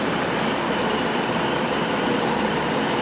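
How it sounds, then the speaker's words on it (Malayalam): A CAF-built Class 331 train, unit 331018, bound for Blackpool, pulls into a platform at a UK railway station, giving a steady, broad rumbling roar throughout with no talk over it. "അപ്പുറത്ത് വേറൊരു ട്രെയിൻ വന്നിട്ടുണ്ട്."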